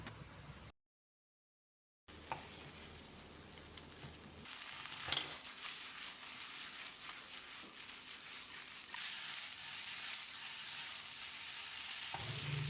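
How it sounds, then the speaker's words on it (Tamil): Mushrooms with masala sizzle steadily in a pan over medium heat, with occasional scrapes of stirring, a short silent gap near the start, then the sizzle grows slightly louder. "அளவான தீயில் ஒரு 2 நிமிஷம் காளானில் நல்லா மசாலா பிடிக்கிற மாதிரி கலந்து விடணும்."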